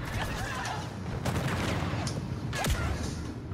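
Rapid blaster fire in the Star Wars Battlefront 2 video game comes as a dense fusillade of close shots over a busy battle din, with speech mixed in.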